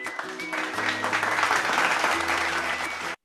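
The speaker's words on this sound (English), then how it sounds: "Let's give a huge round of applause for the shining stars" Steady, full applause from a school ceremony audience celebrating grade winners, sustained over background music and cutting off abruptly at the end.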